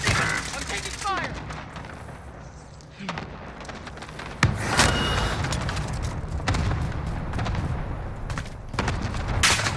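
Video game gunfire in a shooter, near and loud in sustained bursts and single cracks, with sharp impacts throughout and a player's voice shouting over the shooting.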